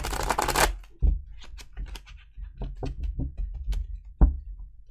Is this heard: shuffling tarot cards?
yes